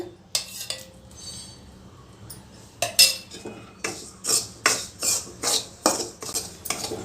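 Semolina (rava) roasting with ghee in a hot pan over low flame, with sparse scrapes at first and then a steady run of rhythmic spoon scrapes and clinks against the metal, close and clear.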